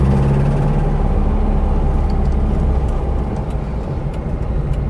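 The air-cooled engine of a Porsche 912 drones steadily from inside the moving car, a loud, continuous low rumble with a slight dip in level near the end.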